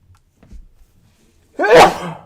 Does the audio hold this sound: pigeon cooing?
no